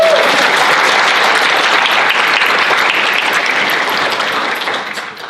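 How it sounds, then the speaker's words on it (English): An audience at a community tree summit event gives loud, sustained applause that holds steady before tapering off at the end. "deserve a round of applause for that accomplishment."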